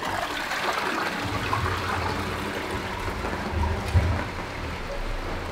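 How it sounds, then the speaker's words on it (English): Rain falls on a jungle house in Surat Thani, Thailand, a steady close patter of drops with a soft low rumble beneath and a few louder splashes. "I can hear the raindrops"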